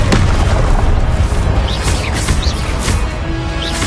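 A Confringo blasting spell in Hogwarts Legacy on PS5 erupts in a loud, dense explosive boom, followed by continuous rumbling blasts and crackling debris that fill the whole stretch with no pause.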